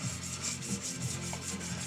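Hand sanding wood, rhythmic back-and-forth rubbing strokes at a steady pace, about eight passes, close and soft with no talking.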